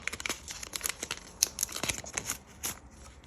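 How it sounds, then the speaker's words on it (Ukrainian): Paper crinkles and tears in quick, irregular bursts as a packet is opened close by, fairly quiet with no talking. "Це відкриємо цей гарний пакетик."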